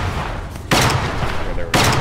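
Gunfire in the naval warfare game Foxhole, two heavy booming bursts about a second apart, loud and close over a steady rumbling background with voices under it.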